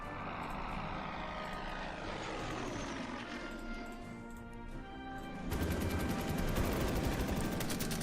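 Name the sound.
bomber aircraft and gunfire in video game Order of Battle: World War II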